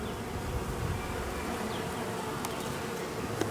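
Honeybees buzz around a hive entrance during a spring hive inspection, giving a steady, moderately loud drone of many insects with faint passing clicks and no talk.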